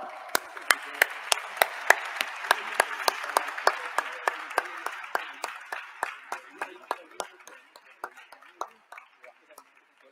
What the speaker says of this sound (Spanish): para que les demos un fuerte aplauso